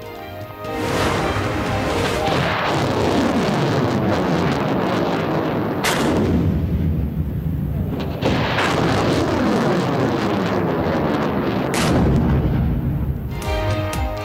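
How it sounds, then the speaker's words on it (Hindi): Nasr surface-to-surface ballistic missile test launch: a sustained, loud roaring rumble with sharp cracking bursts near the six- and twelve-second marks, continuous throughout without speech. "नसर बैलिस्टिक मिसाइल का एक और कामयाब तजुर्बा।"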